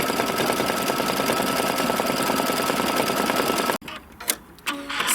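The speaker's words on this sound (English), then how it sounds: "now it's just doing the cover stitch" A computerized embroidery machine runs a cover stitch on a quilt block, giving a steady, dense mechanical whir with rapid needle chatter. It runs continuously for several seconds, then stops abruptly, leaving faint clicks and handling noises.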